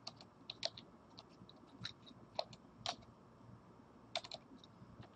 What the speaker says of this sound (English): Just using my keyboard to put these in.